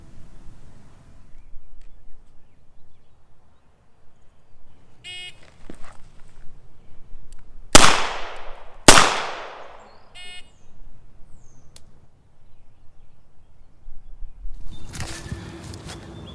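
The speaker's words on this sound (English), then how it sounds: "on the signal to fire, I drop into a kneeling position and put 1 shot on each target" Two sharp, loud shots from a S&W 686 revolver a second apart at a police pistol qualification course, surrounded by quiet outdoor ambience and faint shuffling.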